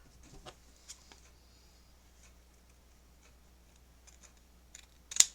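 Scissors trim felt or paper from a Santa hat craft, a few soft scattered snips across a quiet room and one sharper, louder cut near the end, with no talking.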